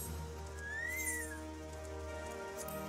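A single person whistles one rising-and-falling tone of about a second over a steady low electronic hum, with no other voices.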